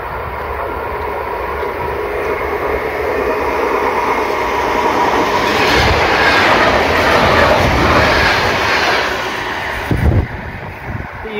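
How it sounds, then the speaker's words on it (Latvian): Train rushing past a station platform in the Rumbula–Dārziņi area on a windy day, a loud, sustained rumble that swells to a peak and then eases, with a few sharp knocks near the end. "Man vilciens nāk. Nē, tas nav mans vilciens."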